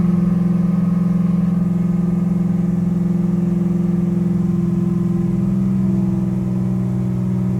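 A Chevrolet C8 Corvette engine runs steadily in first gear, held at 2,000 to 3,000 RPM, giving a loud, constant drone with no talking.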